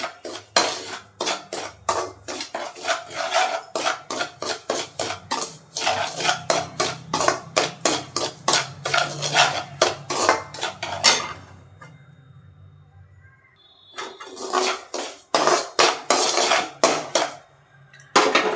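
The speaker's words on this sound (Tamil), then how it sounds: "நெய்யில் நல்லா ரவையை வறுத்துக்கணும்" Semolina roasting in ghee in a pan for kesari, with a spoon scraping and clanking against the metal in rapid repeated strokes, close and loud, pausing briefly before the stirring resumes.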